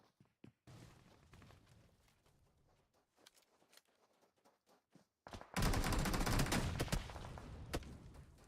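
Gunfire in an esports match of a battle-royale shooter: scattered single shots and short bursts for the first five seconds, then a loud, dense burst of automatic fire that continues to the end.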